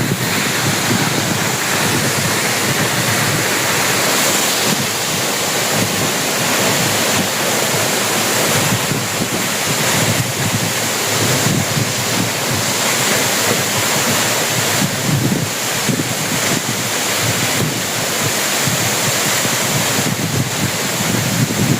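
A roaring waterfall among rocks pours out a steady, loud, close broadband rush that never lets up for the whole stretch, with no voices over it.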